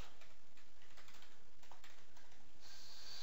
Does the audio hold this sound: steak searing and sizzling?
no